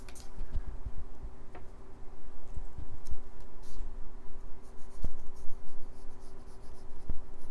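Pencil scratching on paper while drawing Captain America comic art, with light strokes used to curve in stars; soft, close, continuous scraping with occasional sharper ticks and no talk.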